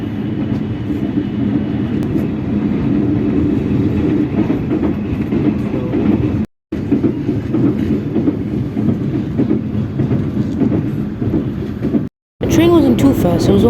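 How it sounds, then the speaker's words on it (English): Inside a passenger train travelling around 78 km/h between Rawalpindi and Karachi, a loud continuous rumble of wheels on rails with rhythmic clickety-clack, broken by two brief silent gaps, and a voice speaking at times. "The train wasn't too fast, it was only going 78 kilometers an hour."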